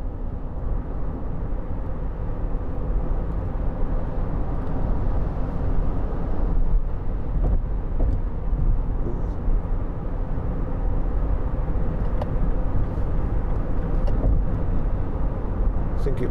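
A 2010 Chevrolet Captiva 2.0 VCDi diesel people carrier on a test drive, heard from inside as a steady, loud rumble of engine and road noise that runs unbroken throughout.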